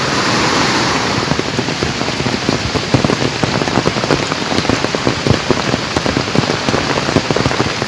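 Steady rain patters loudly and continuously in the Konkan monsoon, with a broad rushing wash of small streams flowing beneath the dense drops.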